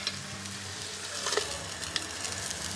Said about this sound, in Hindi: अब हम इस मसाले को इस दाल के अंदर डाल देंगे